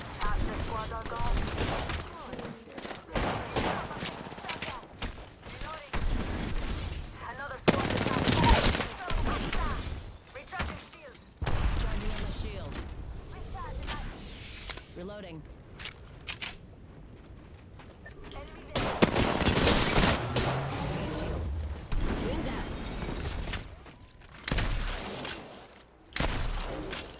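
Gunfire in the battle-royale game Apex Legends on the World's Edge map, loud bursts of automatic and rapid rifle fire in clusters with short quiet gaps, close and dominant, with in-game voice callouts between bursts.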